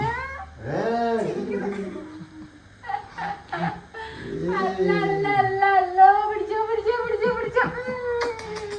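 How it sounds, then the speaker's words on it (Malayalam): A cat meows repeatedly, high and drawn-out, with long wavering cries close by and a person talking over part of it. "ഇതാണ് നമ്മളെ കാത്തു പൂച്ച"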